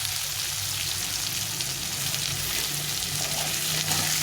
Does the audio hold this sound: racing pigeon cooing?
no